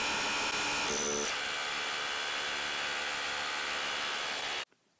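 A Bosch GBH 18V-26F cordless rotary hammer runs loud and steady while drilling into cement plates, a dense continuous buzzing grind with a brief shift in pitch early on, cutting off abruptly near the end.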